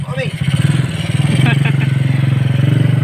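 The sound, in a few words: motorcycle engine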